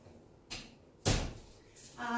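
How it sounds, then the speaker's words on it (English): A door closes with a solid thump close by, preceded by a soft swish and followed by faint rustling. "I'm just going to shut the door."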